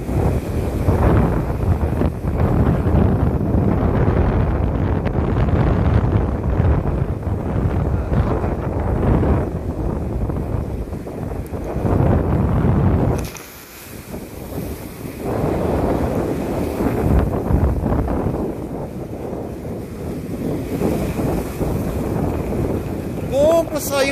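Strong, cold wind buffets a boat at sea in heavy waves, with loud roaring gusts on the microphone that ease briefly midway and then return, and a voice is heard under the noise.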